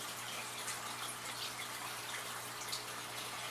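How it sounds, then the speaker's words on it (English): Water is poured gently into a container while fish are being acclimated, making a steady, soft trickling flow without splashing, heard up close. "You don't hear me splashing when I'm pouring this in."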